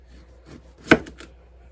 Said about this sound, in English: now I'm going to slice them up